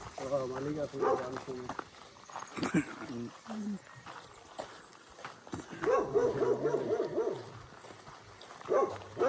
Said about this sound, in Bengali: কুকুরে কিন্তু পুরো ঘাই ঘা ঘা ঘা করতেছে